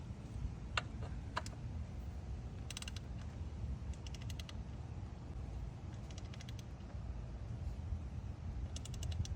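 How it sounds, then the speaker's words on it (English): A torque wrench set to 18 foot-pounds tightens the intake horn gasket bolts on a 12-valve Cummins engine in a second-generation Ram. Faint ratcheting clicks come in short bursts over a quiet low hum. "I have my torque wrench set to"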